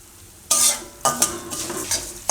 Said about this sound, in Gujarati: આને આપણે હવે મીડિયમ ગેસ રાખીને શેકી લેવું.